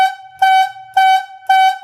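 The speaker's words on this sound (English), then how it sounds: "Those are the whistle signals for a slackline logging operation." A logging yarder whistle on a slackline operation sounds the person-injured signal as a string of loud, short tonal blasts evenly spaced with brief gaps between them.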